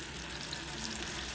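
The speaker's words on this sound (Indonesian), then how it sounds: "Setelah minyak panas baru dimasukkan bumbu yang udah di blender tadi" Blended spice paste hits hot oil in a pan, giving a steady, close, dense sizzle and crackle that holds evenly throughout with no pauses.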